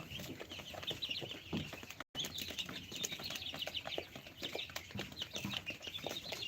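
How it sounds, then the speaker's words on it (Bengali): Close, busy chirping and peeping from young Tiger breed chicks, many overlapping calls with some rustling, continuous apart from a brief gap. "এগুলো হচ্ছে এগুলোটা অরিজিনাল টাইগার মুরগির বাচ্চা"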